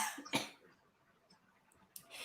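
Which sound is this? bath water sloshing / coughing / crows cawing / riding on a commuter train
coughing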